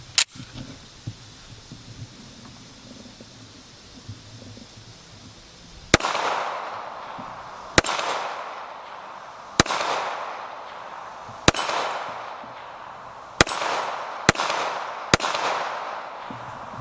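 Dan Wesson TCP .45 ACP 1911 handgun fired outdoors: seven sharp, loud shots spaced roughly two seconds apart, a couple closer together, each with a short echoing tail, after a quiet stretch of faint handling noise.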